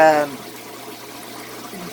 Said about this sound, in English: Even if I pull this up as hard as it'll go, the water still comes out.